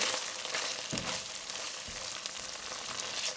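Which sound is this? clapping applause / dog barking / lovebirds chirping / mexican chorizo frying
mexican chorizo frying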